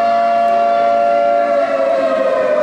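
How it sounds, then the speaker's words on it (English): A loud civil-defense-style siren blares as entrance music at a wrestling event, a steady sustained wail with a slight pitch drift, heard alone without talk. "That siren."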